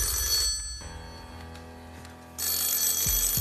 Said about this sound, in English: Do you get very angry when the phone rings and interrupts you?